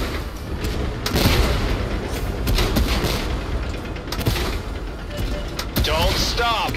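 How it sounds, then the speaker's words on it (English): Tank cannon fire in the Tank Force video game rings out as repeated loud booms and gunfire bursts over constant rumbling battle noise, with a voice talking partway through. "They're gonna shoot right through us."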